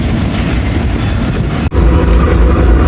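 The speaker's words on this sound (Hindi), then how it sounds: "तो ओकाड़ा पहुंच गई है ट्रेन।" The Karachi Express rolling into Okara station, a loud close rumble of wheels and coaches with a high whine that cuts off, then heavier rattling as the cars keep moving.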